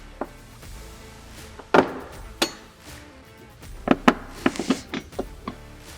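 Sharp metallic clicks and clinks from M8 by 12mm bolts being snugged into a filler panel bracket while fitting aluminum doors to a Polaris RZR Pro R 4, coming in scattered single taps and a quick cluster near the end, close and moderately loud.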